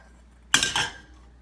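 Ground beef drops into a pan of liquidy picadillo base, a quick wet plop with a clink of utensil against the pan, then a brief sizzle that fades.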